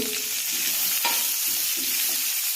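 Chopped onion frying in a pan on medium heat for matki usal, a steady close sizzle with soft stirring scrapes throughout, no voices.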